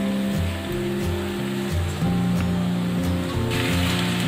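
Thick flattened rice frying in a pan with potato and onion, a steady broadband sizzle like hissing rain that continues throughout at fairly high volume.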